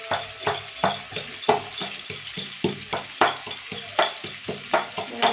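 Crushed garlic frying in hot oil in a pan for chilli cabbage, with a steady sizzle under a quick regular rhythm of stirring scrapes, close and moderately loud, no talk.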